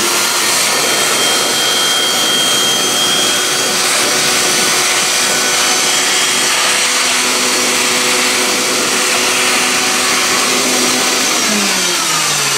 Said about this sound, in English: JT's gonna vacuum out this nice mouse poo